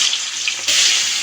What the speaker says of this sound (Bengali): তেলটা গরম হয়ে গেছে, এবার আমি এক এক করে মাছগুলো দিয়ে দেব।